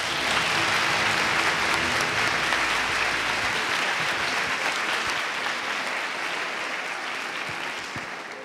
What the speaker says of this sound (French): Applaudissez Amaury Gomard